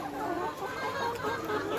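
Laying hens about six and a half months old cluck softly and continuously nearby in a low, busy murmur, with no other sounds standing out.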